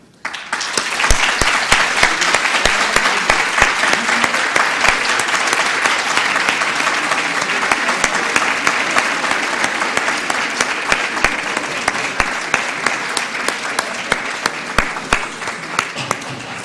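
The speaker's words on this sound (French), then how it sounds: "Je vais vous demander d'accueillir comme il se doit et sous les applaudissements notre jury de ce soir." Loud, sustained applause from a large audience welcoming the jury at an evening final, dense continuous clapping that swells after a quiet start and stays strong throughout.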